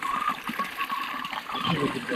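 Water rushes and splashes at a water point on the mountain trek up Velliangiri, a close, steady flow while someone talks over it.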